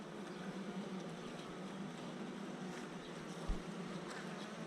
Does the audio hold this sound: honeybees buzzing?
yes